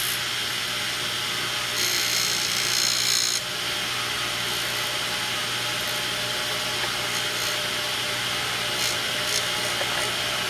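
A DEFU 2AS key cutting machine grinds continuously as it cuts a key, a steady high-pitched whirring and scraping with a brief harsher, louder stretch early on and no talk.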